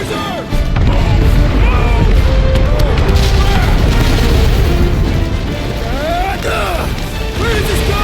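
Explosives blowing up in the video game Guardians of the Galaxy: loud, sustained crashing blasts and rumbling debris fill the scene, with game characters' voices and music layered over the chaos.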